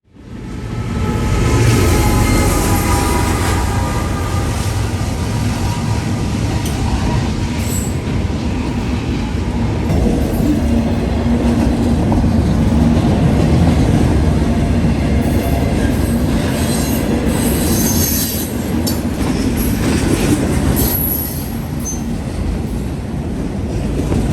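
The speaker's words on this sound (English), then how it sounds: "Midpoint in the train was an NS ET44AC, shoving and pulling his part of 179." A long Norfolk Southern freight train, train 179, with an NS ET44AC locomotive as midpoint power, rumbles past at night, loud and close with continuous wheel and rail noise, squealing wheels and rhythmic clatter.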